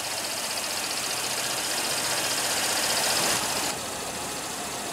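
A 2015 Cadillac SRX with a direct-injection V6 idles steadily at close range, a broad even engine hum with faint ticking that swells slightly near the end before easing back.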